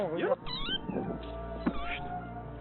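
Several cats meowing on a Paris street, repeated wavering cries close by, with faint background noise and people talking nearby.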